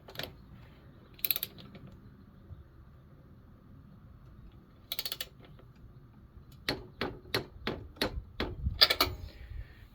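A torque wrench tightens a spark plug on a lawn mower, giving a quick run of sharp ratcheting clicks near the end, after scattered metallic clinks and handling knocks at close range.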